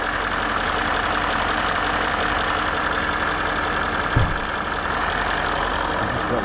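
A Range Rover engine with a heating fault runs at a steady, loud idle with an even mechanical hum, one brief low thump partway through and no talk.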